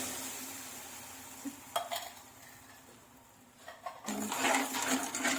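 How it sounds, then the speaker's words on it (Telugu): Sugar and water being stirred in a pan on a stove for motichoor laddoo syrup, with a soft ongoing simmer broken by a few scraping, clattering stirs against the pan, fairly quiet, with no talk. "షుగర్ మొత్తం బాగా కరిగిపోవాలి ఫ్రెండ్స్. ఇలా కలుపుతూనే ఉండండి."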